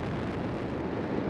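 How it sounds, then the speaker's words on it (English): Space Shuttle Atlantis's three main engines thunder at liftoff on its final launch, a dense, continuous low roar that holds steady and fills the whole moment. "All three engines up and burning. 2, 1, 0, and liftoff."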